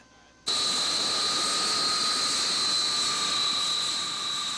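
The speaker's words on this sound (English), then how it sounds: "Today was the first real flight for the B-52G as its crew flew out to Griffiths Air Force Base in New York." A Boeing B-52G bomber's jet engines roar in a steady, loud whine and rush that begins abruptly and holds continuously, with strong high-pitched turbine tones over a broad wash of engine noise.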